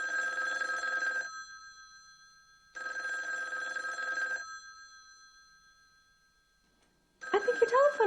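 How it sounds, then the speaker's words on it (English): A telephone bell rings in two long bursts separated by a pause, clear and fairly close, with a voice starting to speak at the end. "I think your telephone is ringing."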